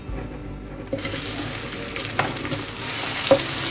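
Sizzling and crackling of onions frying in hot oil, with occasional stirring clatter, steady and close.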